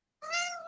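A single kitten's meow, clear and close, a short tonal cry rising and holding for about half a second, heard alone in quiet.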